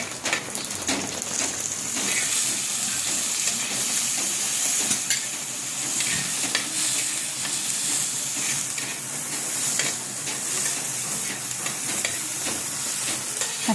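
Chopped tomato cooking in fried onions in a pan gives a steady, close sizzle and hiss that runs the whole time, with occasional stirring scrapes and no talk.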